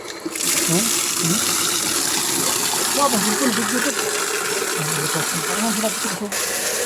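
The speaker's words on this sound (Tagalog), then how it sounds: "ang lakas na yung tubig dito mga kababayan" A strong gush of water runs steadily as a pump starts up, a broad continuous rush with a mechanical rattle beneath it, loud and close throughout.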